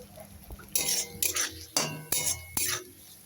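Spice paste for a Bengali Kajol Gouri fish curry is sautéed and stirred in a pan, with a series of close, sharp metallic scrapes and clinks of the spoon against the pan in uneven bursts.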